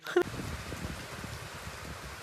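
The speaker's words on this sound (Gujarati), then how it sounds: "ફૂલ વરસાદ આવી ગયો" Rain falls with a soft, continuous patter, opening with a brief sharp knock before settling into an even wash.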